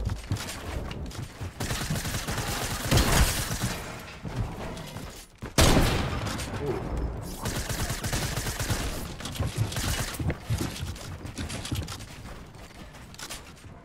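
Gunfire in the video game Fortnite, with rapid bursts and sharp single shots cracking out across the whole stretch, loud and close, mixed with clicking mechanical handling sounds.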